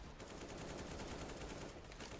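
Automatic rifle fire in a Counter-Strike match, a rapid rattling burst of shots running continuously for a couple of seconds at moderate, slightly distant loudness.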